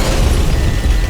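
A heavy, roaring explosion-like blast from tank shells striking a tank in a video game, loud and continuous across a short span, with no talk.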